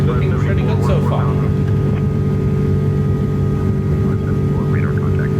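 Steady engine drone from an Airbus A330 in a flight simulator, a loud continuous hum with a broad low rumble throughout, some faint background chatter.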